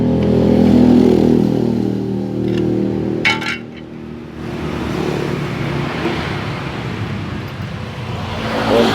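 A noisy, underpowered Alcon water pump driven by a GX160 overhead-valve engine runs steadily nearby, a loud droning hum with a brief metallic clink partway through and no talking.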